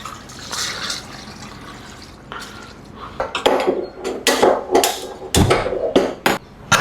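Water splashes into a cooking pot for mutton head curry amid clattering metal and thuds, the pouring and knocks getting louder and busier toward the end, with no talk.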